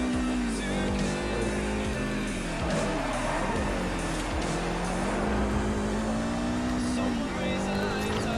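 In Forza Horizon, a rally car engine revs and drops in pitch through gear changes over several seconds, with rising and falling whines and occasional tyre noise, while someone talks over it.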